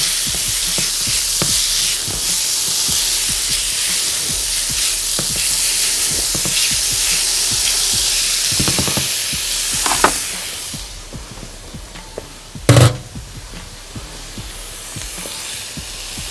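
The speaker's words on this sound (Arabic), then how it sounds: "وعلى طول هنزل فيه الفراخ. هدي الفراخ نقطه زيت زيتون من فوق" Chicken sizzles loudly in a pan with olive oil, a constant bright hiss broken by stirring scrapes, easing slightly near the end before one sharp clatter.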